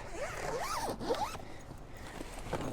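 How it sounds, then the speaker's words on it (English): A zipper on a tool bag is pulled closed in a few quick, rasping strokes up close, followed by quieter handling rustles. "zip that back up"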